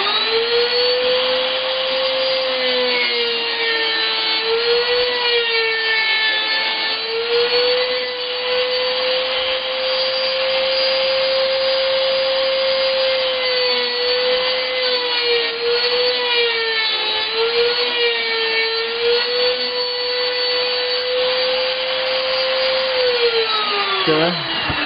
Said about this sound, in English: Now I come over here to this little itty bitty router.